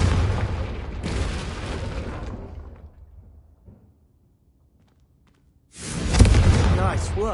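A Confringo fire spell cast in Hogwarts Legacy bursts with a loud rumbling explosion that fades into near silence, followed by another booming blast, with voices talking around it.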